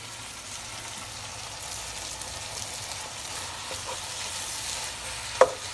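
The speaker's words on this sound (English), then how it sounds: "What I'll do, stir it up very well, because they like to come together." Eru leaves are stirred in a hot pot, giving a soft continuous sizzle and rustle with a single sharper scrape or clink near the end.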